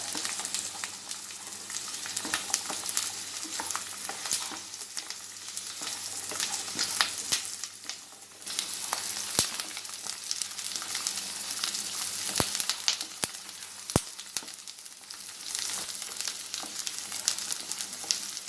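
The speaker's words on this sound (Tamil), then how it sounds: "நல்லா பூண்டை வதக்கணும்." Garlic cloves sauté in hot oil for a garlic pickle, producing a continuous loud crackling sizzle with occasional sharp pops and stirring, and no one speaking.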